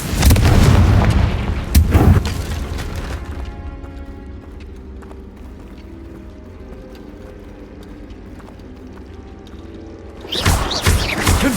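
Blasting-spell explosions from Hogwarts Legacy gameplay: a loud, booming burst with heavy low rumble at the start, a second blast near two seconds, a quieter rumbling decay, then another loud burst near the end.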